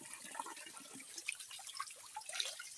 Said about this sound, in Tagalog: dito tayo ngayon sa sapa